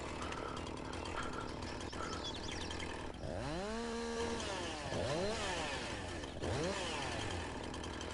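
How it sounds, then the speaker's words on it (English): A chainsaw in the video game Farming Simulator 19 idles with a buzzing rattle, then revs up sharply three times in swooping bursts, loud and close, with no one speaking. "I have a chainsaw."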